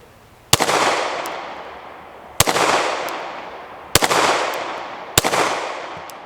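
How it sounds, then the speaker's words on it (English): Four sharp gunshots ring out from a PSA Dagger pistol built on an 80% frame. They are spaced one to two seconds apart, and each crack leaves a long echoing decay. The shots are loud and close, with no talking. "Let's do some shooting here."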